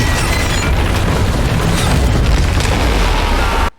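A massive pirate ship breaks in half in the One Piece anime, heard as a loud, sustained roaring crash of rumbling destruction that cuts off abruptly at the end.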